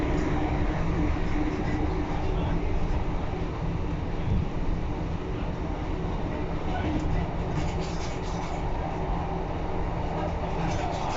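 Onboard an East Midlands Railway class 156 Sprinter diesel unit, 156411, travelling between Barnetby and Lincoln in January 2022; a continuous, loud interior rumble and hum with faint rhythmic rail clatter throughout.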